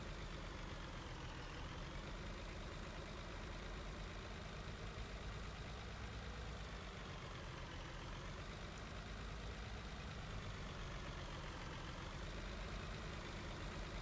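Truck engine idling in Farming Simulator 19 at night, a faint, even low rumble that holds steady without voices.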